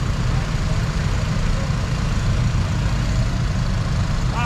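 A Jeep Willys engine rumbles steadily on the heavy off-road Trilha dos Engenhos in Camaragibe, a loud, even, low idle-like drone with no breaks.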